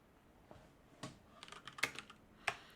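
Sparse, close keystrokes on a computer keyboard, a handful of separate clicks and taps spread irregularly across a quiet room tone with no talking.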